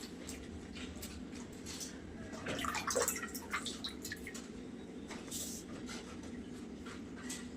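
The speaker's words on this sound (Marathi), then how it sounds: "मिरच्या टोमॅटो ही धुवून घेऊयात आपण." Running water splashes quietly from a kitchen tap while chillies and tomatoes are rinsed, a soft, steady trickle with faint handling sounds close by.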